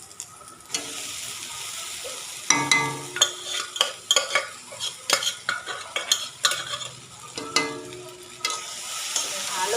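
Boiled peas with spices are stirred in a kadai over the heat, with irregular scraping strokes of a spoon against the pan over a soft sizzle, close up and with no voices.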